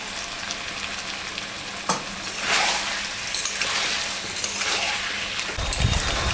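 Chicken drumsticks and meat cooking in a pan with a little sour yogurt added sizzle steadily, while a utensil stirs and scrapes now and then, rising in intensity near the end, with no talking.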